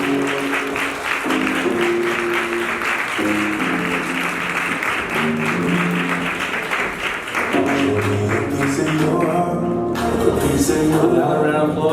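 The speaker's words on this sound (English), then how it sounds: "please put your hands together for Lakshmi B." Audience members at an upcycled-outfit fashion show clap loudly and continuously, a crisp dense patter of many hands running over steady background music throughout.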